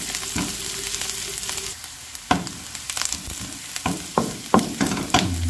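Garlic and onion sautéing in a hot pan, a steady close sizzle broken by sharp scraping stirs of the spatula, with no talking.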